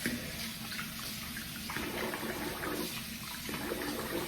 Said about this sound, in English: I'm gonna wet the face here for the third pass.